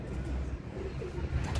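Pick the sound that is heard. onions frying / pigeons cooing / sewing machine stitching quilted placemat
pigeons cooing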